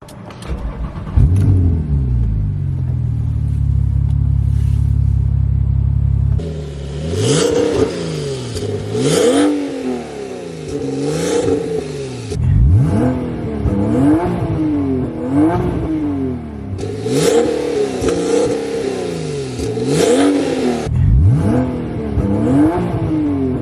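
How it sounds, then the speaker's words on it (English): A tuned Porsche 911 997.2 Turbo cranks and starts with a loud flare, settles into a steady idle, then is revved repeatedly in sharp rising and falling blips with brief pauses between, close and loud. "let's give it some start up and some revs"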